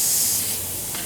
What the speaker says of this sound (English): simply release the pressure from the gun